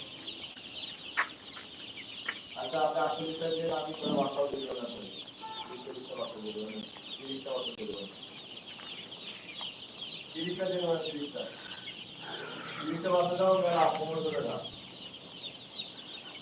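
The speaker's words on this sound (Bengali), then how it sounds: "এখানে আছে ব্রয়লার" Broiler chickens on a poultry farm and hatchery in Khulna cluck in repeated short bursts over a steady high-pitched hum filling the shed, moderately close and fairly soft.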